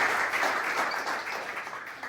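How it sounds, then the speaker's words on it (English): An audience at a boxing gym reopening breaks into applause, a dense wash of clapping that stays loud throughout and fades slightly toward the end. "Let's get a round of applause for you guys."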